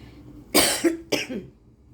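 Two separate coughs, close and fairly loud, the first a harsh burst and the second shorter, with quiet in between.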